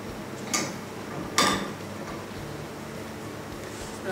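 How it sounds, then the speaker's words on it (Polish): Mushrooms go into a hot frying pan over a large flame, landing with two brief clattering knocks against the pan. A low, steady background noise runs underneath. "No teraz wrzucimy pieczarki."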